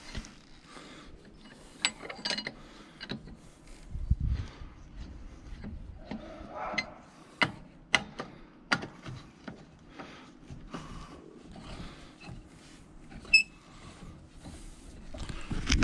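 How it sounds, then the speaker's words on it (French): Wheel bolts are loosened while a flat tyre is changed, giving a sparse, quiet series of sharp metallic clicks and ratcheting ticks with low handling noise between them. "je finis de desserrer mes boulons complètement"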